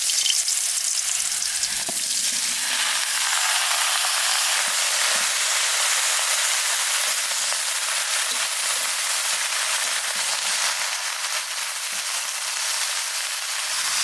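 Fish frying and bottle gourd cooking in a pan: a loud, continuous sizzle close up, with occasional stirring scrapes, no voices.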